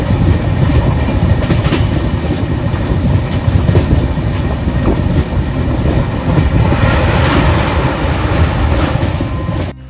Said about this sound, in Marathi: ज्या AC डबल डेकर ट्रेनने माझा प्रवास होतोय 12/932 अहमदाबाद मुंबई सेंट्रल